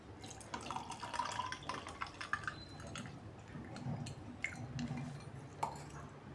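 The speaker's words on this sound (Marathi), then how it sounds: "पाणी घालून घेणार आहे." Water pouring into mango premix for a glass of mango sharbat with ice cubes, a close, steady splashing and trickling with scattered drips, moderately quiet throughout.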